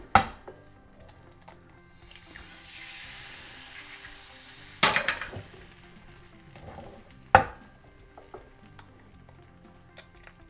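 Four eggs fry together in a pan, a continuous soft sizzle broken by three sharp clacks of shell cracking or utensils on the pan, with quieter scraping between.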